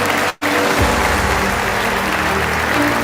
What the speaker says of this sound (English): Come on, support them with your loud cheer, with your claps.